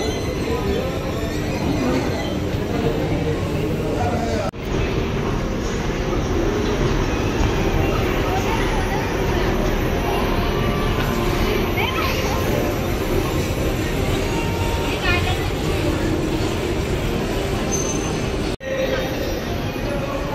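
A toy ride train in a shopping mall rolls along with a steady, loud rumbling clatter that fills the whole stretch, with a couple of brief dips and bright squeals over the mechanical noise.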